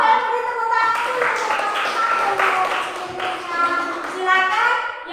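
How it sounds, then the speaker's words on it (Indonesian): Students in a classroom applauding a presenting group, scattered hand claps mixed with children's voices talking and cheering throughout. "Oke, beri tepuk tangan."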